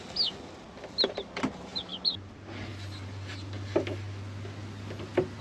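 Chickens cluck and chirp in short scattered bursts near a coop, several brief calls at irregular intervals over a low steady hum.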